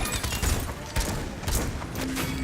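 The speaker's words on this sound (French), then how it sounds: "là je viens de lui envoyer mes illusions à la gueule" Ying's illusions attack an opponent in the Paladins video game, giving a dense burst of rapid explosive pops and thumps with a heavy boom near the start and continuous game noise throughout.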